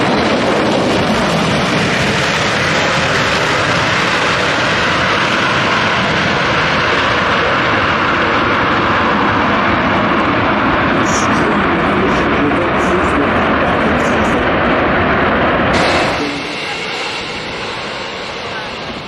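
A Boeing 727 airliner comes in to land, its jet engines roaring loud and steady with a broad rushing tone for most of the stretch, then dropping away to a quieter hiss near the end.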